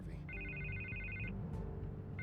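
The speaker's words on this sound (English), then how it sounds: "I can't get the phone to stop ringing." Telephone rings in Batman: The Telltale Series, a bright electronic trill repeating in long bursts over a low rumbling game background, pausing briefly before ringing again.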